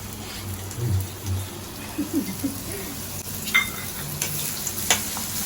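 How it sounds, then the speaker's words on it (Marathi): Onion dropped into hot oil with cardamom, cinnamon and black pepper, frying with a soft hiss and a few scattered stirring clatters, close by and without talking. "तेलामध्ये टाकते आता मी कांदा टाकते"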